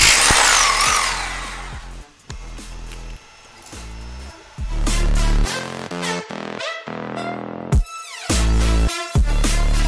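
A loud rotary hammer grinds and rattles into a wall in several bursts while fixing a bathtub in place, cutting out briefly between runs, with no talking.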